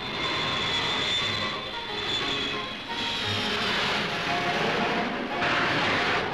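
A fixed-wing airplane passes overhead, its engine drone steady and fairly loud with slight swells and dips across several seconds, no talk.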